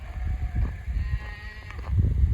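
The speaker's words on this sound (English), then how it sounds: "just wanted to show you guys these lambs" Lambs bleating in a farm pen, with goats kept nearby; several short, fairly close bleats rise over a steady low rumble of barn noise, with no talking.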